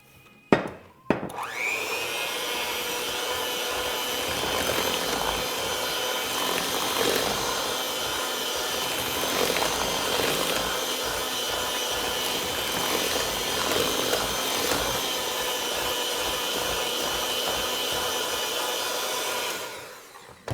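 An electric mixer runs steadily for about twenty seconds while blending cake batter as sifted flour is added, a loud continuous whir that starts abruptly and cuts off at the end, with no talking over it.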